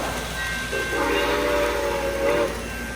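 Model railroad train running on a tunnel layout, a steady rolling rumble with a sustained horn-like tone sounding for a couple of seconds in the middle, moderately loud with no talking.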